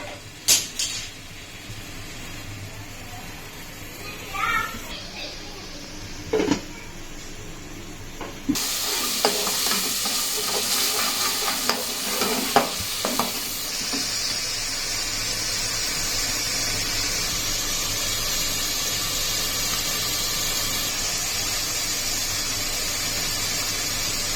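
Masala and chicken for tandoori chicken korma fry in a pan, starting with scattered clinks and stirring knocks and building into a loud, continuous sizzle.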